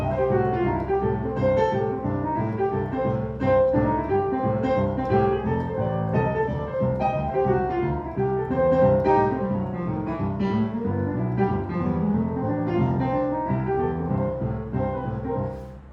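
Piano playing a pentatonic solo lick in C with slides, in a rolling rock and roll style, steady and continuous, close and alone without talk.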